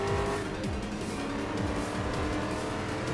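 Race car tires squeal and skid in the GRID Legends racing game, repeated screeching slides over a constant loud engine drone, with no voices.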